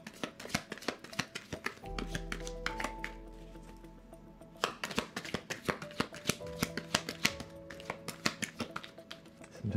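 Tarot cards being shuffled and handled, giving a continuous run of dense papery flicks and taps with brief pauses, close and fairly quiet, with a soft background hum and no talking.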